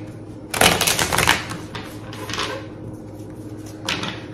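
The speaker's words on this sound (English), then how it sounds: "Good hard shuffle." Tarot cards are shuffled hard in quick riffling bursts, a loud crisp flurry followed by two shorter, softer rounds.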